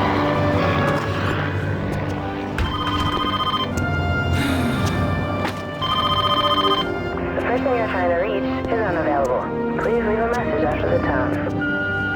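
A telephone rings inside the 1998 video game Trespasser: The Lost World. The ringing tones repeat in bursts over a steady bed of game sound, and someone talks through most of the clip.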